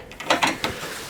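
Metal R clips slide out of the radiator mount on a Renault Trafic van, giving a few short scraping clicks and rattles close by, with no voices.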